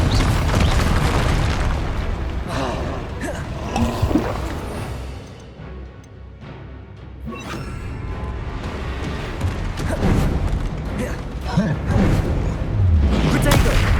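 Loud, dense fire-spell explosions go off in the video game Hogwarts Legacy, booming bursts and crashes over a constant roar of battle, with spell shouts mixed into the chaos.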